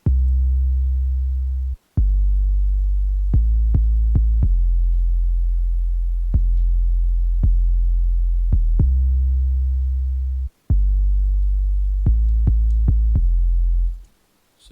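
A slow R&B beat made in FL Studio, built on deep, booming 808 bass notes that sustain and shift pitch, with sparse sharp clicks marking the rhythm, loud and steady.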